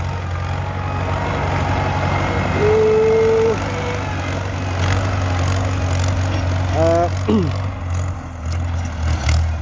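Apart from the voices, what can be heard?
Ford 6600 tractor engine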